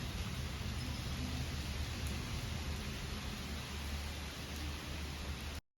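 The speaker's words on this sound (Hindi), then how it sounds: "बारिश देखिए एकदम से तेज़ हो गई है" Heavy monsoon rain pours steadily in Jammu, a dense unbroken hiss with no voices, cutting off abruptly at the end.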